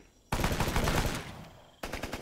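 Machine-gun fire in Rambo: The Video Game: a long, loud rapid burst, a brief pause, then a second burst starting, close and dominant.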